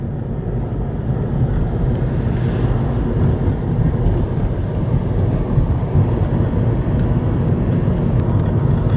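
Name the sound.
tourist train passing on tracks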